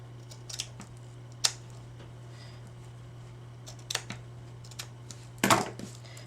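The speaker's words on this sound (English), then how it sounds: "I'm going to cut this good because I might use it on the other side." Scissors snipping lace for a vintage lace journal cover, a few scattered close clicks and snips with one louder cut near the end, over a steady low electrical hum, with no talking.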